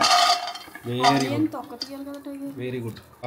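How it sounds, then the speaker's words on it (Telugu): Peanuts roast in a pan while a utensil stirs them, making short scraping and rattling sounds under a nearby voice speaking. "ఇప్పుడు పల్లీలు వేపుకుంటున్నాం ఫస్ట్"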